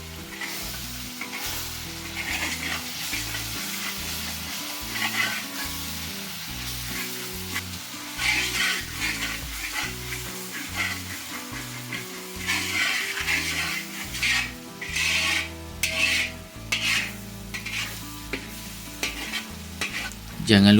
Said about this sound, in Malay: Tumis sahaja sehingga ianya garing dan pecah minyak.